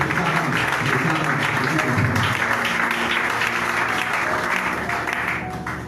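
A church congregation applauding and cheering the Lord during a sermon, loud sustained clapping from a large crowd that fills the room and tapers slightly at the end.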